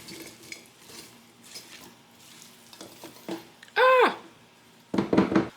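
Broccoli casserole ingredients with onions are stirred in a vintage 1970s crock pot, giving soft scraping and clinking strokes in uneven bursts, with two louder clattering knocks near the end.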